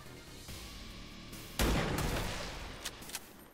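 Sniper rifle shots hitting turrets in XCOM 2, a loud burst partway through with a sustained rumbling tail, then two or three sharper cracks near the end over a low ambient game background.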